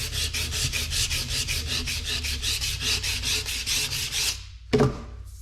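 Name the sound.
cross-hatch sanding a custom sheet metal hood molding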